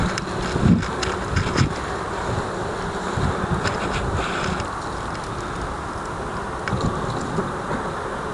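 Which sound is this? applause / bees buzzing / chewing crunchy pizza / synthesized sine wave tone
bees buzzing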